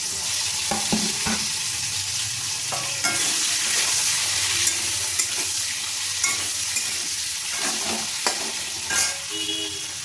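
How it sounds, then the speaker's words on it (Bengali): Ridge gourd stir-frying in oil in a wok, with a steady loud sizzle broken by repeated scrapes and clanks of a spatula stirring the pieces, close up and with no voices. "ঝিঙেটা আমি একদম লাল লাল করে ভেজে নিয়েছি,"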